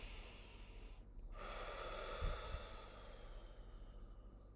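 A single deep breath, drawn in and released as a soft airy rush over a few seconds, close to the microphone with no talking.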